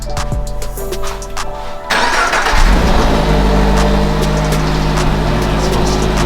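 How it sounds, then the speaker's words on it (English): A 2022 Subaru BRZ engine starts up: quiet electronic chimes and clicks, then the starter catches at about two seconds into a loud close flare that settles into a steady idle. "So turn on the car real quick"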